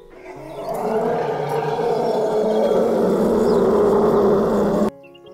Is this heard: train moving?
no